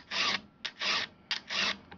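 A hand file rasps across chainsaw teeth to sharpen them, three loud, evenly spaced strokes, each a harsh scraping pass followed by a brief return, close and clear.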